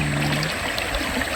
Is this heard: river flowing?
yes